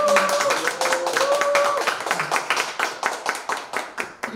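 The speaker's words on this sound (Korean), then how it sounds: "우리 두 분의 노고에 큰 박수 한번 보내주시고요" A Korean poetry recital gathering claps for the event organizers, brisk clapping that starts dense and thins into distinct, rhythmic claps, with voices briefly audible at the start.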